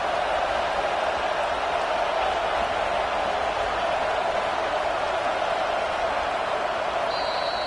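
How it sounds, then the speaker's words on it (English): Broad, steady crowd roar fills a football stadium during a third-down defensive stand, loud and sustained throughout with no break. "Decibels rising as the crowd gets behind this defense on 3rd down."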